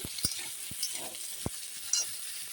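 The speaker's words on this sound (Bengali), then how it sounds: "তাই আমি পেঁপেটা দিয়ে দিলাম একটু নেড়ে" Papaya pieces stirred in hot ghee in a wok: a faint low sizzle with a handful of sharp spoon taps and scrapes against the pan, quiet and close.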